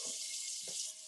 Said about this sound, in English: 1 quart or so of water into a pot